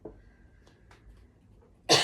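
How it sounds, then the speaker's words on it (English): A single sharp cough bursts out near the end, loud and close, after a stretch of quiet room noise. "this thing always makes me cough"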